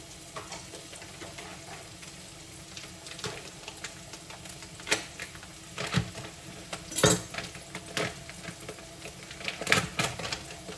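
Garlic sizzles in a pan before gnocchi is added, a steady frying hiss broken by scattered clinks and scrapes of a utensil against the pan, with no talking.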